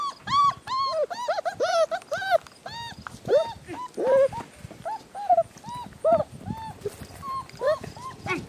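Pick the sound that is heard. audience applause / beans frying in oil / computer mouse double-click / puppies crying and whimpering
puppies crying and whimpering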